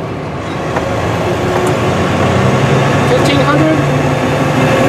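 A heavy truck or tractor with a non-synchronous transmission drones steadily from inside the cab, its low engine rumble holding fairly even through a gear change, with a voice talking over the constant noise.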